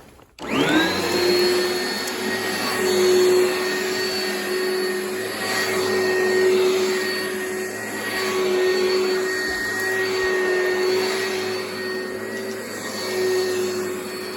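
Oreck XL2 upright vacuum cleaner running through a house, switching on with a rising whine and then roaring steadily up close, the pitch swelling and easing slightly as it is pushed back and forth.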